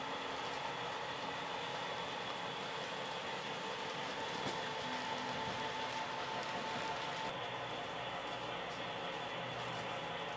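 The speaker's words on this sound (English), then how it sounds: "This segment of the journey takes the train through the warehouse section" An HO-style model railroad train runs steadily along its track through a miniature warehouse district, giving a continuous close rumble and rolling clatter for the whole stretch, with no voices.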